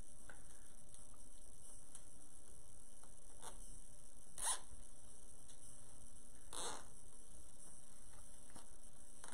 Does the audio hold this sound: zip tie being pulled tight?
yes